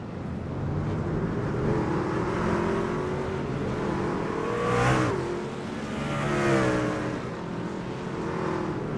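Race trucks in the iRacing game accelerate at Richmond, Virginia, their engines roaring loudly and continuously, with a truck sweeping past near the midpoint and another surge just after. No one speaks.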